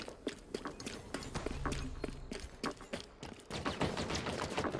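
Gunfire from Halo Infinite rattles in rapid, uneven bursts of sharp cracks, some close and some farther off, mixed with footsteps and a short low hum in a busy multiplayer skirmish.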